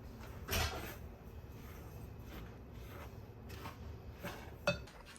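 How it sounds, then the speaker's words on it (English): Dry ingredients for a gluten-free carrot cake are mixed in a bowl, giving faint scattered clinks and soft scrapes with one sharper knock near the start and another near the end, with no talk. "Now we're gonna mix all of the dry ingredients together"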